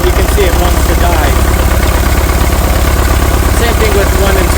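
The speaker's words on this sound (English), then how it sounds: "it doesn't change the way the engine is running at all" International TD-6 crawler tractor engine running rough and misfiring, a loud, steady, close idle with uneven low throbbing pulses and no break throughout.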